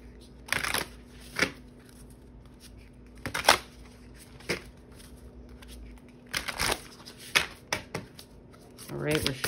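Tarot cards rustle, flap and snap while being riffled through by hand, in uneven bursts of crisp papery clicks with a soft voice now and then between them.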